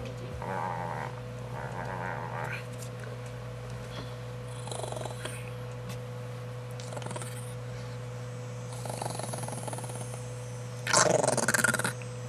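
A small dog growling in a low, continuous rumble close by, with softer snuffling and rustling throughout and a louder burst near the end.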